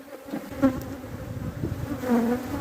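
Honeybees buzz steadily around a hive just after two colonies were merged, a dense, continuous swarm drone that holds close and fairly loud throughout with no voices.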